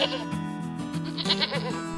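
A herd of sheep and goats bleating together, several overlapping wavering calls close by and fairly loud, one cry after another with no pause in between.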